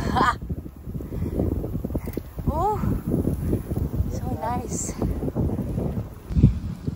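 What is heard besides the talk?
strong wind in the Sierra Madre mountains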